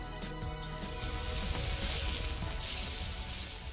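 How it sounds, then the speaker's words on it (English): Falafel sizzling in hot frying oil in the game Fate/Grand Order, a steady crackling fry with bright spitting pops throughout, loud and close with no speech. "Give me just a sec and I'll fry you up a fresh batch."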